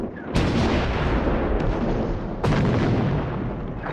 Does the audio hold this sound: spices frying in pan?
no